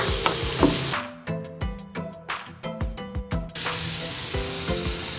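Shiitake and black fungus mushrooms fry in a pan with a steady close sizzle, broken midway by a run of rhythmic tonal pulses before the hiss returns.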